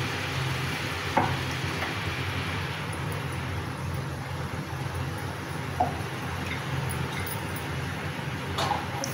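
Gujiya (chandrakala) fry in hot oil kept at medium heat, giving a continuous, even bubbling sizzle close by with a couple of faint clicks and no voices.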